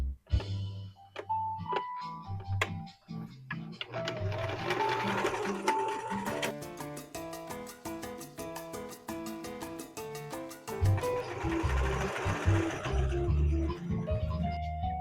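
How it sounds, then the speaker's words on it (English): Sewing machine stitching small wings onto the front of a hooded cloak, starting with short stop-and-go bursts, then running in fast, steady, rapid stitching runs, close and moderately loud. "then I will sew the little wings onto the"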